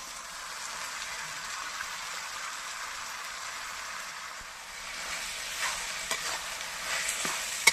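Curry frying in a pan after turmeric goes in, a steady soft hiss of sizzling with occasional light stirring clicks toward the end, moderately quiet throughout.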